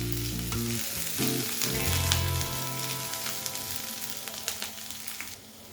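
Broken cashews and peppercorns fry in a pan with a steady crackling sizzle while a spatula scrapes and stirs them close by. A low hum fades out early on.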